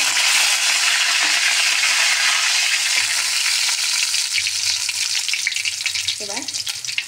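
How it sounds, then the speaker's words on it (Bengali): Dried red chillies tempering in hot oil for vegetable chops hiss with a steady, loud, close sizzle that fills the whole stretch, with a faint scrape of stirring near the end and no talking. "এই যে শুকনো লঙ্কাটা ফোড়নে দিয়ে দিলাম"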